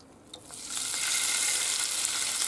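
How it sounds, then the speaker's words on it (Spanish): Pancetta drops into hot oil already used for frying, sending up a loud, steady, close sizzle and crackle that builds within the first second and holds, with no one speaking. "Con el mismo aceite se echa la panceta."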